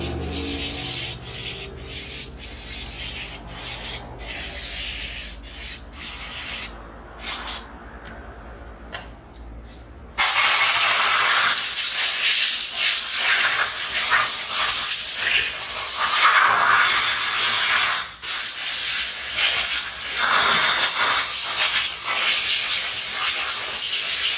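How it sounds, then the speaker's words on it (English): Compressed air and brake cleaner spray cleaning engine parts during a Holden HQ sedan engine rebuild: short bursts of hissing for the first ten seconds, then a loud, steady spraying hiss that continues with small fluctuations. "give it a little clean down, a little air blow, some brake cleaner"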